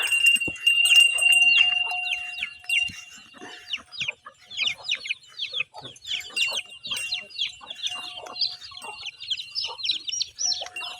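Chickens cluck and chirp in a busy flock, with many short overlapping calls and a rooster-like note early on, fairly close.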